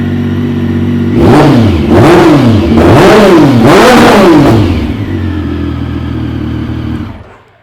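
A motorcycle engine revs up hard in several rising and falling surges, loud and close, then settles to a steady idle before cutting off.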